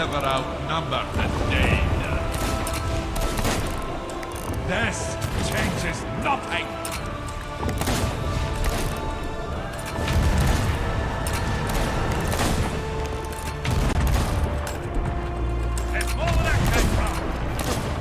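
Gunfire repeats against a boss in the game Lords of the Sea, with booming impacts and mechanical clatter under steady talk from players throughout.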